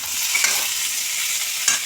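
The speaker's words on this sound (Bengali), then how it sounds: "প্রায় ভাজা ভাজা হয়ে গেছে।" Salted potatoes fry in a pan with a loud, close, continuous sizzle. Two quick stirring scrapes break through the hiss.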